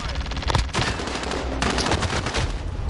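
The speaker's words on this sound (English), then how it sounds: "Assault rifle." Rapid assault rifle bursts and scattered gunfire crackle loudly and almost continuously in a Call of Duty-style Gulag match on PS4, with brief pauses between dense volleys.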